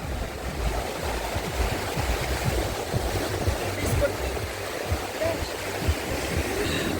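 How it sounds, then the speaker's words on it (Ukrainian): Sea waves at the Arcadia beach in Odesa, a continuous rushing and churning of surf close by, heard without pause. "Ой, такі хвилі, клас, кайфуліки."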